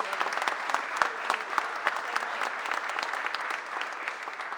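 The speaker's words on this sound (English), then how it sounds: "Give a round of applause for Shelley." Dense audience applause fills a mayor's press conference, steady and close, with many hands clapping at once and no break for the full stretch.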